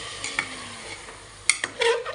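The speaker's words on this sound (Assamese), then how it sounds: "এয়া গৰম পানী দি দিলোঁ।" Hot water poured into a cooking pot of rice hisses and sizzles briefly, with a few sharp stirring clinks and scrapes near the end; close and fairly quiet, no talking.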